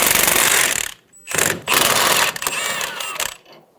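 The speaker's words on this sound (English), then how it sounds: "we're going to use a 22mm socket to remove the jam nut" A ratchet with a 22mm socket clicks in quick bursts as it backs off the inner tie rod jam nut on a 2000-2007 Ford Focus, loud and close, with a short pause between the runs of pawl clicks.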